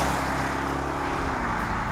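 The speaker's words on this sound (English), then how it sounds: "So on the move, the big Bentley's Mulsanne Speed does feel really rather magnificent." Bentley Mulsanne Speed luxury saloon on the move, a steady low engine and road hum with broadband tyre and wind noise, constant and unbroken throughout, with no voices.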